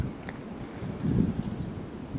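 Strong wind blowing over a snowy hilltop, a low steady rush with a gust swelling midway, fairly quiet and with no talking.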